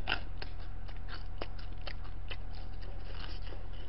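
Crisp, repeated crunching bites into a large deep-fried Korean dumpling with a packed filling, sharp crackles coming close and clear at an irregular pace with no talking.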